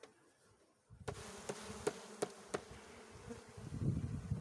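Honeybees buzz steadily around an opened beehive as frames are shaken off. A few sharp knocks from the frames break through the hum, which grows fuller and louder toward the end.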